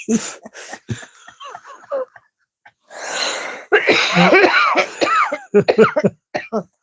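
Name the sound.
coughing after laughing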